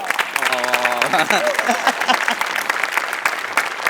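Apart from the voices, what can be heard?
audience applause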